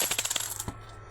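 A stream of coins tumbles out of a cardboard box in a quick run of clinking metallic drops that thins out toward the end, with no talk over it.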